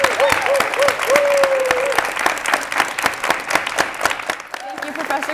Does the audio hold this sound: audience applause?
yes